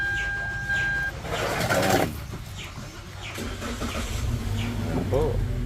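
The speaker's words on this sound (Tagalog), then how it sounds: "Gumagana na siya. Muling pagkabuhay ng Toyota Rush" A 2021 Toyota Rush engine cranks and catches, then settles into a low steady idle, with people talking nearby and birds faintly audible in the background.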